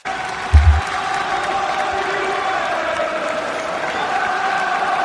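A football crowd at a Newcastle versus West Ham match fills the air with continuous cheering and applause, a dense steady wash of noise with one brief thump near the start.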